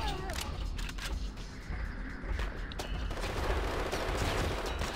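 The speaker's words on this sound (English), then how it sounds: "machine gun" Rapid bursts of machine gun fire ring out during a rooftop vampire fight in Hunter: The Reckoning, dense crackling volleys continuing with little pause, loud and close.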